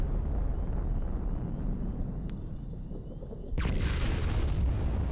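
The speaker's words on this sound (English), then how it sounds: "A lot of explosions." Booming explosions in the Fallout 76 video game: a dull rumbling blast bed with a sharp crack midway and a heavier burst near the end, loud and continuous.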